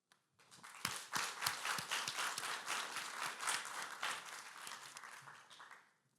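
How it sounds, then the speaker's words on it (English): Audience applause at a youth global sustainability panel swells from a few early claps into full, steady clapping that fades toward the end. "Please join me in another round of applause to recognize the commitment of the entire team here in the front row."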